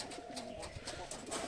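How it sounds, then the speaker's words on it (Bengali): Pigeons in a home loft coo steadily up close, low throaty calls overlapping through the moment with faint background noise and no speech. "আর এই হচ্ছে সব পায়রাগুলো, শখ কর তোমরা।"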